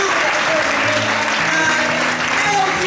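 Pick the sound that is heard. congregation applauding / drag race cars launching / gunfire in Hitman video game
congregation applauding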